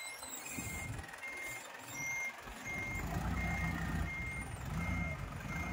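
A truck reversing into a parking spot on a practical driving course, its steady reversing beeps sounding over a rumbling idle engine, with a brief hiss like an air brake, all fairly close.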